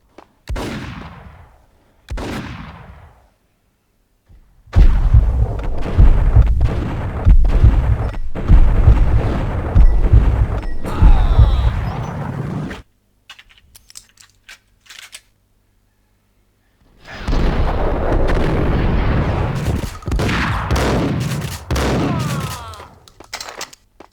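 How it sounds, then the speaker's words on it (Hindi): Desert Eagle gunfire in the PC game Max Payne arrives as loud, dense volleys of shots and booms in two long stretches, separated by near silence and a few scattered smaller bangs, with no talking. "इसको तो मैंने डेजर्ट ईगल से उड़ा दिया"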